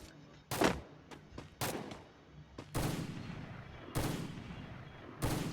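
Sniper gunshots in the Free Fire video game crack out sharply, about half a dozen separate loud reports spaced irregularly, each with a short decaying tail, and no talk between them.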